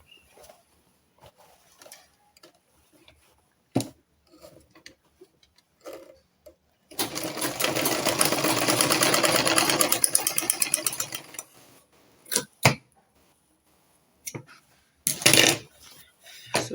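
A sewing machine stitches a corset, a dense mechanical whirring burst of about four seconds in the middle, set among scattered handling clicks, taps and shorter quiet stretches, close by, without speech.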